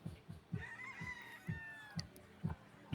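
Chickens cluck and crow across a large gamefowl farm, with regular low thumps and a rooster's call drawn out in the background.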